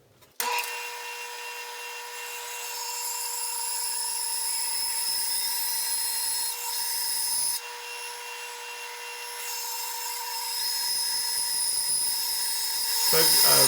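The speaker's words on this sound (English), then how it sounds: "I'm going to head over to the bandsaw next and trim off my edges" A bandsaw cuts steadily through a wooden block, trimming its edges for bowl turning: a loud, continuous whining buzz with a tonal hum, briefly dipping between cuts and swelling again near the end.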